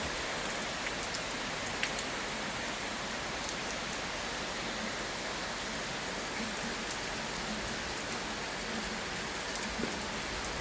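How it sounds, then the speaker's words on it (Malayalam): Steady heavy rain pours onto surfaces in Odisha, a dense even hiss that fills the whole stretch with no pauses and no voices. "അപ്പോഴത്തേക്ക് നല്ലൊരു മഴയും പെയ്തു"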